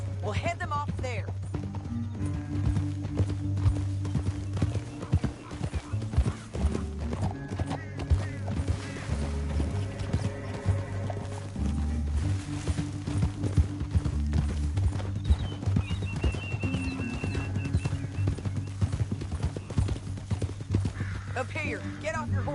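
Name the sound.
horses galloping, hooves clip-clopping in a video game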